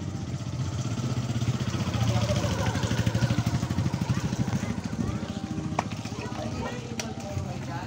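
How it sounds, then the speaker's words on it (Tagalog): A motorcycle passes close by on a rural road, its steady mid-pitched engine drone running for several seconds beneath continuous talking. "May motor."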